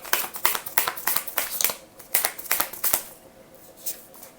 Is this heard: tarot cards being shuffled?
yes